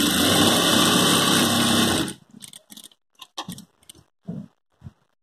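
An electric sewing machine stitches a blouse seam in a continuous, loud whirring run for about two seconds, then stops abruptly and leaves scattered light clicks and fabric handling.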